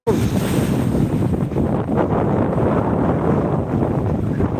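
Rough sea surf pounds Digha beach in a continuous loud roar, waves crashing steadily with heavy wind buffeting the microphone throughout.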